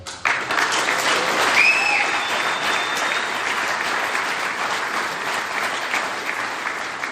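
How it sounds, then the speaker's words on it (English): Audience at an AA convention in Ireland applauding loudly and continuously, a dense close wash of clapping that swells early, then holds steady before easing slightly. "And you're clapping yourselves there"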